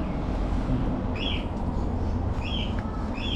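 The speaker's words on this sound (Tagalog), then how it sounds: "Uy, may ibon." Short bird chirps break through twice, around 1.2 and 2.5 seconds, thin and a little distant, over steady low restaurant hum and background murmur during a lunch in Tagaytay.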